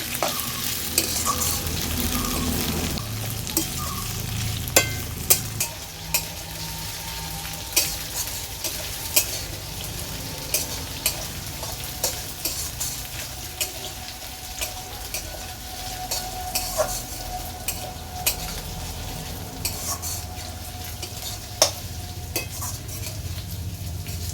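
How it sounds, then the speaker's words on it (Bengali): Potato pieces frying in a pan are stirred with a spatula. A continuous sizzle is punctuated by frequent sharp scraping clicks and taps against the pan, near and loud, with no talking. "আলুর টুকরোগুলো দিয়ে আমি 2-1 মিনিট নেড়ে চেড়ে নেব।"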